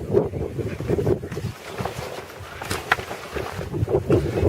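Wind gusts buffet the microphone outdoors during the setup of an Arctic Oven 12x18 tent, a rough rumbling roar that rises and falls unevenly and stays close and loud throughout.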